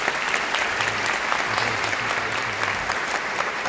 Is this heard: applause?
yes